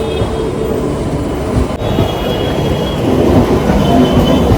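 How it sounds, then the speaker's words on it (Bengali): A nearly empty Barasat local passenger train running with a loud, continuous rumble and wheel noise heard from on board, steady throughout. "বারাসাত লোকাল যাচ্ছে, বারাসাত লোকাল। পুরো ফাঁকা ট্রেন"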